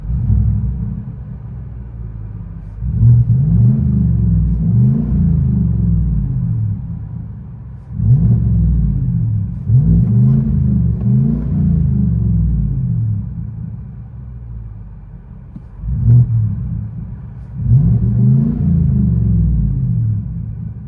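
2020 Chevy Silverado LT with a 5.3L V8, Black Widow Widow Maker exhaust, resonator delete and dual tips, heard from inside the cab as it revs in several loud, deep rumbling surges separated by idle.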